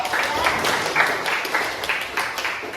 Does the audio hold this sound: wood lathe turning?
no